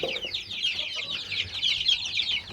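A flock of chickens and roosters clucks and chatters continuously in a coop while rushing at freshly filled feed, a dense, steady, fairly close chorus with no pauses.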